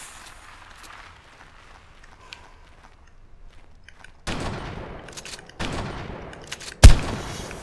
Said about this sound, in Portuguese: Os tiros não estão pegando nela.